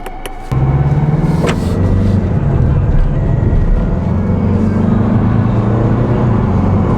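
A 2023 Mazda 3 Turbo in sport mode starts up after a few clicks, then its engine drones loudly and steadily as it drives, the pitch slowly rising and shifting under continuous road noise.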